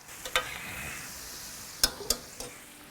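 Floured, seasoned lamb pieces frying in a pot, with a low steady sizzle and a few sharp scraping clicks of stirring, fairly quiet and close.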